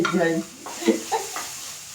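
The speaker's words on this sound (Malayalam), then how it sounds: "നേന്ത്രപ്പഴം ഒന്നും കൂടെ വഴറ്റിയെടുക്കാം നമുക്ക് നെയ്യിൽ" Chopped nendran banana stirred and sautéing in ghee, with a soft sizzle and a few scraping stirs of a spoon in the pan, close and moderately quiet, no talking.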